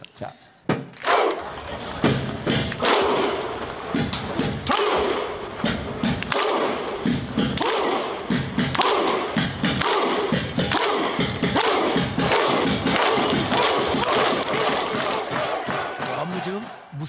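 Iceland football fans at the World Cup performing the Viking thunderclap, a huge crowd clapping in unison with repeated deep shouted grunts and heavy booming claps, loud and rhythmic throughout.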